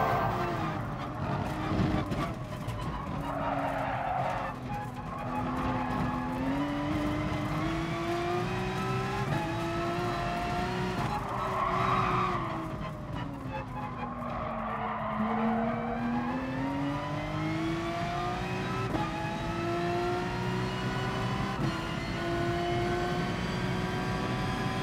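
A Porsche race car in GT Sport drives a lap with a steady, loud engine drone whose pitch sweeps up and down through shifts and corners, with brief tyre skids, alone and without talk.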